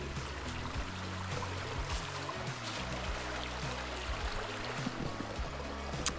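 A small creek flowing beside a roadside picnic spot on Cape Breton in fall, heard as a steady, close rushing and trickling of water that stays even throughout with no voices.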